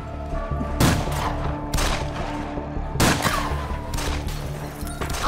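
Gunmen attacking a house fire several sharp, loud shots that echo, spaced irregularly over a constant rumbling background.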